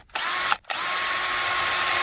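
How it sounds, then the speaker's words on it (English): A power drill boring a 3/16 inch hole into a French drain pipe, starting, stopping briefly, then running steadily and loud up close with no talk. "next we're going to drill a 3/16 inch hole"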